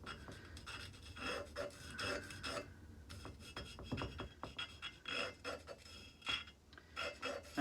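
A carving tool scratching through wax and glaze on a ceramic piece: quiet, close, intermittent raspy scraping strokes in irregular bursts, heard on their own.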